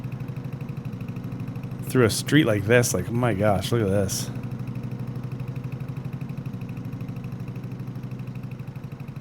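Old antique Porsche tractor engine running steadily while being driven down a street, a continuous low rhythmic chug throughout, with a person talking over it for a couple of seconds.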